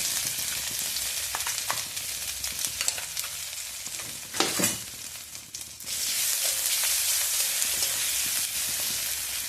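Ginger and green chili paste frying in a wok, a continuous close sizzle with stirring clatter, briefly dipping then returning louder and hissier for the rest of the stretch.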